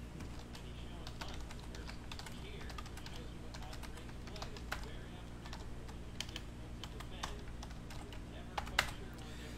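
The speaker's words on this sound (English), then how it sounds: "Let's type in all of the hits here." Continuous rapid clicking of keys on a computer keyboard, quiet and close, over a faint steady hum with a few sharper taps.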